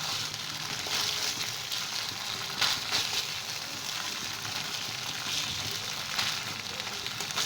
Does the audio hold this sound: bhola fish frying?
yes